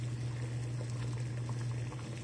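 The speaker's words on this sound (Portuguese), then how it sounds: "Temos água fervendo." Water boils in a pot on a Brastemp induction cooktop, a steady close bubbling hiss over a constant low hum from the cooktop, with no talking.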